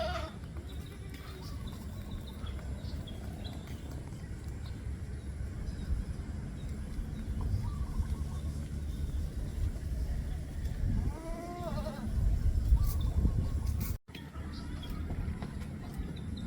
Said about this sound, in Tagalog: Kambing natin dyan, oh.